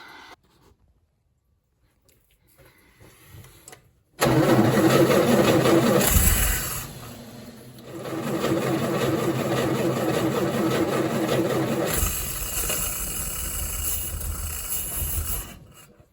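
An old Humber Super Snipe Mk 1 engine turns over with a rough, loud cranking that catches and runs unevenly, pausing briefly before churning on again, then cutting off.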